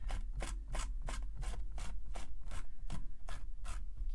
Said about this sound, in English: Give it a good scrubbing.